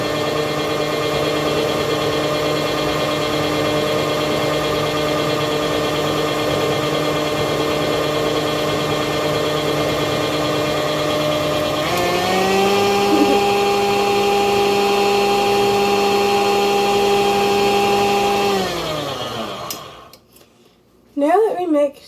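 An electric mixer whirs through peanut butter pie filling, a steady humming drone that shifts pitch partway through and then winds down to a stop, followed by a couple of brief clatters.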